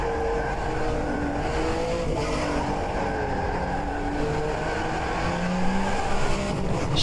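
A Mercedes Group C sports prototype rounds the last corner at NOLA Motorsports Park, its engine roaring steadily at a distance, with shifting pitch and a faint tyre squeal near the end.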